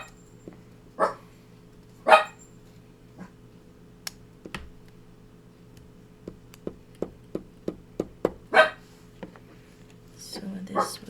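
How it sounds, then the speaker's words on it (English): A dog barks a few times in separate sharp bursts, mixed with clicking keys and a soft voice. "My dog is barking."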